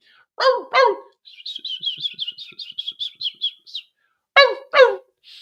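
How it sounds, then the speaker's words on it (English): Bird chirps: two sharp calls, then a quick run of a dozen rhythmic high tweets, and two more sharp calls at the end, close and clear. "Birds chirping, dogs barking."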